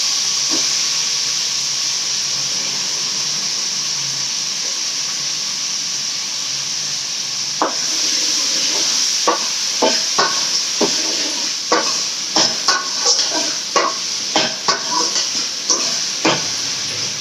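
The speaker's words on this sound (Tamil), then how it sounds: "கத்திரிக்காய் நல்லா வதங்கணும்" Brinjal sautés with onion and tomato in a pan under a steady steamy hiss, joined midway by a run of sharp, rhythmic spoon scrapes and clinks as it gets stirred, close and fairly loud.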